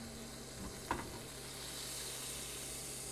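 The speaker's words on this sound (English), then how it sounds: "I'm going to put a little bit of butter in there." Butter sizzles faintly and steadily in a hot non-stick pan on the stove, with one brief clunk near the start, then a soft continuous frying hiss, and no voice.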